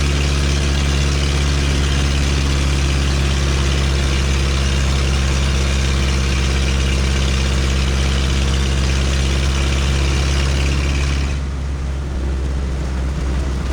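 A 1932 Ford Model B roadster four-cylinder banger hot rod pulling hard in high gear up a steep grade, a loud, steady low engine drone held close, with the pitch easing slightly near the end.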